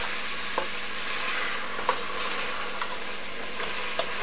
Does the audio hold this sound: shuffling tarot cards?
no